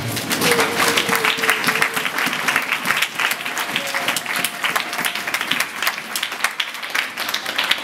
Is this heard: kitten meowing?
no